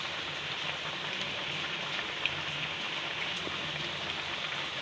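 A heavy downpour outside makes a soft, continuous rush of patter, fairly faint and even, with one small tick midway and nobody speaking.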